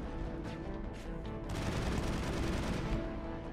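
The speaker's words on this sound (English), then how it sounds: "So let's take cover and avoid the sniper fire." Sustained gunfire rattles through a Mass Effect 1 firefight on PC, with sniper fire among dense, continuous shots that grow louder and heavier midway, with no speech.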